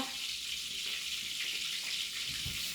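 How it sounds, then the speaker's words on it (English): A kitchen tap running to rinse something off while snapper and fries are being cooked, a steady broad hiss of flowing water, close and constant with no talk. "Let me rinse this off."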